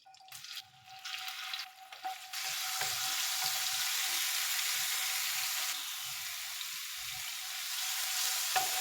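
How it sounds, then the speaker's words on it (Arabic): Garlic sizzles and crackles in hot oil in a pan, a steady bright hiss that swells as it hits the oil and holds at a constant level, close up with no talking. "وهنا انا خليت الزيت، راح اخلي الثوم"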